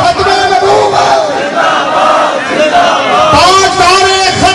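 A large crowd chants the Khatm-e-Nabuwwat slogan in loud rhythmic unison, the voices swelling and falling together throughout.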